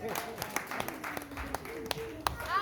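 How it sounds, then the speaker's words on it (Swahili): Scattered clapping from a church congregation greeting a child brought forward, with a few sharp claps over a murmur and a voice speaking. "Makofi kwa ajili yake"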